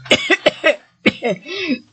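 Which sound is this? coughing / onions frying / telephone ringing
coughing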